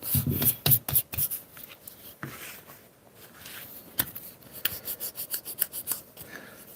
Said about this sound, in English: So I'm just going to finish off sanding a little bit here.